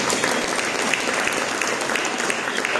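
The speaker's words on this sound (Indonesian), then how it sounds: "Mari kita berikan tepuk tangan bagi Yesus." A church congregation clapping after a sermon, a dense continuous roar of many hands applauding together, close and steady throughout.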